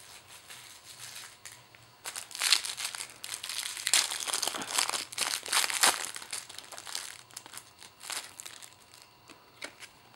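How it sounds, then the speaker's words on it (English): A pack of Naruto trading cards being opened, with crisp plastic crinkling and crumpling that comes in bursts, louder in the middle and tapering off, heard close and with no talking. "let me open the cards"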